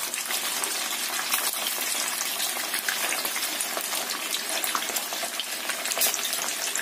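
Food frying in plenty of oil in a wok over medium-low heat, a steady dense sizzle and crackle filling the whole stretch without talk.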